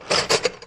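Half-inch wrench turning a bolt on a 50-year-old tractor plow, heard as three short ratcheting, metallic bursts close up, with a fainter fourth click trailing at the end.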